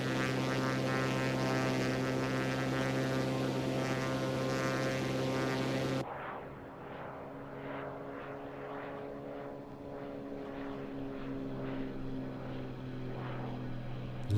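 Propeller engine of a TorqueSim SR22 in X-Plane 12, a steady loud drone rich in harmonics that cuts abruptly to a lower, pulsing engine rumble with rhythmic propeller throbs.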